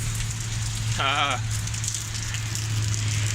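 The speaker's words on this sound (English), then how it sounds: "it's not stopping raining" Steady rain falls over Guadalajara, Mexico as a continuous broadband hiss with a low constant hum beneath it; a voice briefly speaks about a second in.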